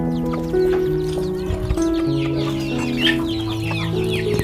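Kampung chickens being fed, with scattered high chirps and clucks under loud, steady musical tones that change pitch throughout.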